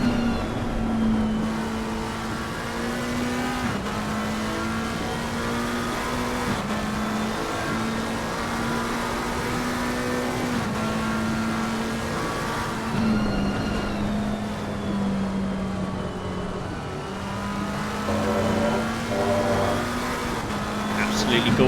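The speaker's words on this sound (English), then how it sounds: "Let's take a couple of moments to listen to this McLaren engine." A McLaren GT3 race car engine in Assetto Corsa Competizione at Brands Hatch drones steadily at high revs throughout, with pitch shifts at gear changes and a brief rise near the end, loud and close.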